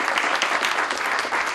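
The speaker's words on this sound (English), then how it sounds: "if we can give Tom Himmler, our DCA, a round of" Audience applause at a groundbreaking ceremony for a new Safeway store, a brief burst of dense, even clapping from a crowd, loud and close with no voices over it.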